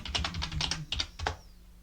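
Rapid keystrokes on a computer keyboard while entering a terminal command, a close, clattering burst of taps in quick uneven rhythm with a short pause before a final few keys.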